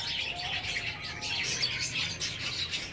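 Pet budgerigars chirping in their cage, an old breeding pair among a blue flock; dense, bright, continuous twittering and chatter close by, with no talk.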